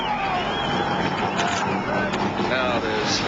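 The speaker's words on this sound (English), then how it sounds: "And there you can hear the engines have started" Race car engines idling and revving together on the starting grid at Mount Panorama before the 1980 Hardie Ferodo 1000 at Bathurst, a continuous, steady roar heard at a distance under a commentator's voice.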